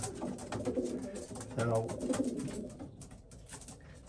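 Racing pigeons coo in a loft, a low rolling burble repeating close by, with a voice speaking over part of it.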